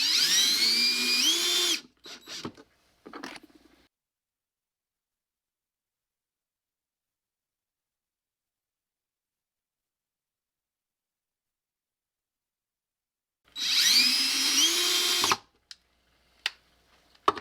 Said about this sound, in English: so I can drive the screws up and have it in the right position